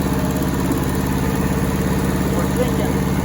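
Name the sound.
Hinomoto tractor engine running while mowing and digging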